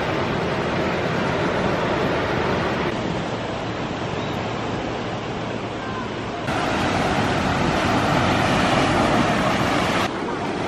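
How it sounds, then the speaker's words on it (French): Ocean waves wash continuously beside a seaside café in Tangier, a loud, broad rushing surf with wind noise on the microphone and no talking. "Petite table au bord de l'eau avec le bruit des vagues."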